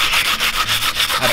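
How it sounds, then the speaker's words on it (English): Sandpaper rubbing back and forth over a carbon fiber kayak paddle under repair, a steady close-up scrubbing in rhythmic strokes of about five or six passes, with no voices. "I've given it a pretty reasonable sanding."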